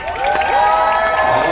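A theater audience aboard a Carnival Magic cruise ship cheers and shouts before a show, a loud and sustained crowd roar with whoops and a rising whistle-like tone over the top.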